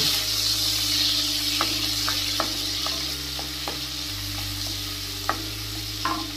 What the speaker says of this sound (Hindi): तेल को गर्म होने देंगे एक बार सबसे पहले तीन हरी मिर्च डाल देंगे स्टर कर लेंगे